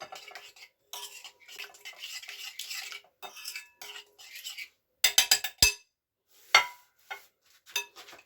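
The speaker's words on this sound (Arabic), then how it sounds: "صافي غادي نخلطوا هاد الشيء مزيان، هاد المطيشه مع هاد العطريه" A spoon clinks and scrapes against a bowl while tomato and spice marinade is mixed for baked fish with potatoes, coming in short bursts of stirring with sharp metallic knocks near the end.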